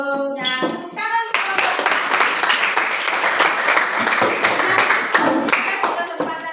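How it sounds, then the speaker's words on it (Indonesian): Classroom applause from a group of students during a teacher's performance assessment lesson, a brief voice at the start, then dense, steady clapping that holds for several seconds. "Nah, tepuk tangan."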